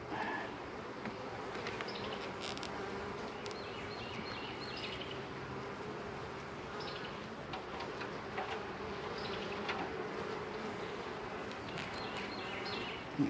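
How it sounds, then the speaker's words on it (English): A dense, steady hum of many honeybees buzzing up close at an open hive during inspection, continuous and even throughout, with faint birdsong and small clicks in the background. "Dropping bees off the bottom of the frame."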